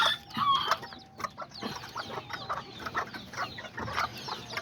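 Small Azteca and Serama chickens clucking in a backyard coop, with several birds making soft, irregular clucks and brief calls overlapping one another at close range.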